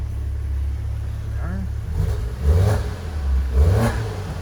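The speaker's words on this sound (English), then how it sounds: "Awesome sound to it. Love that 3-liter turbo." A 2018 Maserati Levante Gran Lusso with a 3.0-litre twin-turbo 345 hp engine idles with a low rumble and is blipped twice, each rev swelling briefly and dropping back, heard nearby outdoors.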